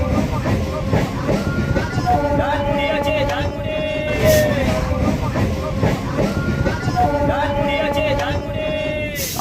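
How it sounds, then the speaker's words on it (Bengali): A local passenger train running from Lakshmikantapur station toward Namkhana, heard from on board as a loud continuous rumble of wheels and carriages. Repeated whining tones rise and fall over it, and faint voices of other passengers come through. "আবার কিন্তু রওনা দিল নামখানার উদ্দেশ্যে"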